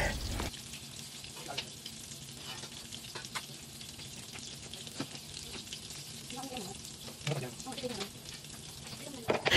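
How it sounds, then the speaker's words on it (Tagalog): Eggplant omelette in egg and flour batter frying in hot oil, a continuous close sizzle with crackles and spatters throughout. "Ipiprito na lang po natin."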